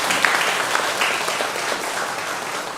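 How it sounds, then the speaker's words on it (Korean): Church congregation applauding during an afternoon worship service, a dense, steady crowd clapping that fills the space evenly from start to finish without voices. "우리 사랑방 모임, 우리 사역자, 사랑방 사역자들 위해서 우리 또 격려의 박수를 한번 쳐줬으면 좋겠습니다"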